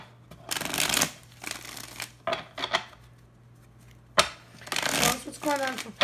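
Tarot cards are shuffled in several brisk, close riffling bursts separated by short pauses, with nobody talking.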